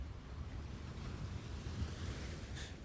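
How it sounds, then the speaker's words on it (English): Coastal waves lapping against rock in a video game, a steady low wash of surf with wind noise that swells gently throughout. "The sound coastal waves make when they lap against rock."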